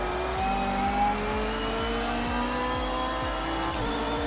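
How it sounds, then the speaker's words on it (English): A race car in Project Motor Racing accelerating hard up through third gear, engine note climbing steadily with a strong harmonic whine and a rapid rhythmic pulsing, sustained and close throughout, with faint tire noise underneath. "we are flooring it now all the way into third gear"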